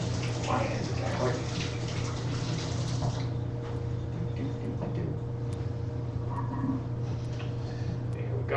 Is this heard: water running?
yes